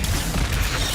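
A spell being cast in the Hogwarts Legacy video game: a dense, loud burst of magical game effects with booming, crashing texture that fills the whole moment without a pause.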